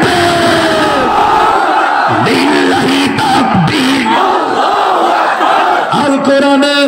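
A large crowd roars a takbir in response to a preacher at a religious gathering, a loud sustained mass shout of many voices swelling and falling over several seconds.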